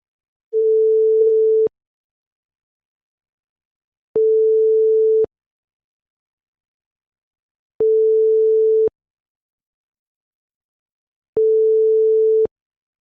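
Ringback tone of an outgoing phone call, four identical steady beeps of about a second each, evenly spaced with silence between them.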